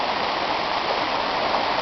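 Floodwater rushes through a normally small creek that has spilled over a wide floodplain in Prosperity, Pennsylvania, making a steady, loud, broadband roar with no pauses.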